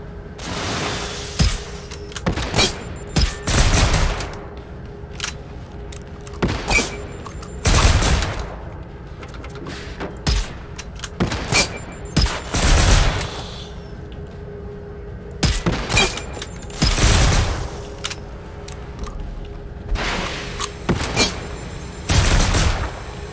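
Enemy gunfire in the video game Generation Zero: repeated bursts of automatic shots and booms come in separate volleys, with quieter gaps between them.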